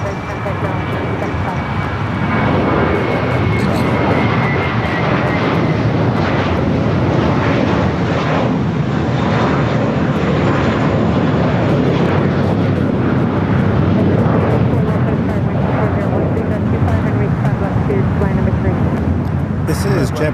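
A JetBlue Airbus A321 jet airliner at LAX, bound for Boston, gives a loud, sustained engine roar that holds steady for the whole stretch, with a voice talking over it.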